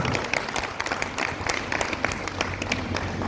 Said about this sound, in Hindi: एक बार जोरदार तालियां बजा दीजिए आप